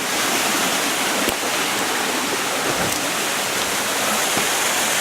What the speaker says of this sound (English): Away from this crashing water, falling water.